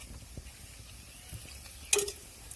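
Chopped onion fries in oil in a pan, a soft steady sizzle with faint stirring scrapes and one brief clatter near the end, quiet and close with no talking.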